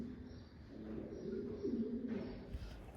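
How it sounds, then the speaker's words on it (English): Pigeons coo in underground caverns beneath the city of Dole, soft low murmuring calls echoing faintly in a quiet enclosed space over a few seconds. "We're sharing some space with the birds."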